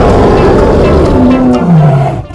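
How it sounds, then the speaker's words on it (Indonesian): An angry lion roaring, a loud close deep guttural roar that rises and then falls in pitch before trailing off. "Kalau singa ini marah, aumannya dapat didengar sampai 8 km."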